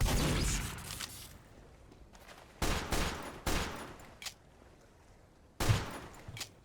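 Bursts of gunfire from the video game Team Fortress 2, loud and close, come in several separate volleys with short pauses between them.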